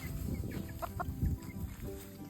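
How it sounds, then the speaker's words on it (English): Soft clucking from small Silkie chickens, a few short close calls over a low rumble of background noise. "this is my little rooster"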